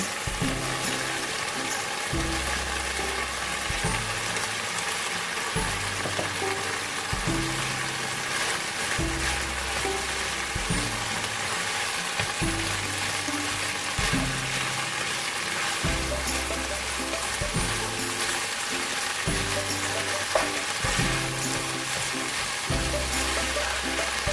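Continuous frying hiss of vegetables cooking in a pan over medium-high flame for a chicken spring roll filling, with a steady low rhythmic hum running under the sizzle throughout.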